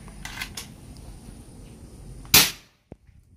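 PCP airgun, an AWM with Monel barrel charged to 4000 psi, fires a single sharp, loud crack that rings off quickly, followed by a small mechanical click, over quiet background hiss.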